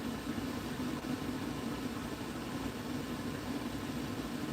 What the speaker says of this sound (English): the noise doesn't damage your hearing because the APU is really not loud